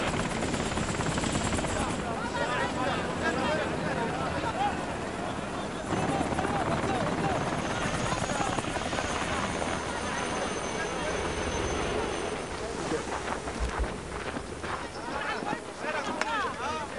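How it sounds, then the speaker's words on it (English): A military helicopter lands for a casualty evacuation, its rotor chop a continuous heavy roar throughout, with voices talking over it. "chopper landing at my location"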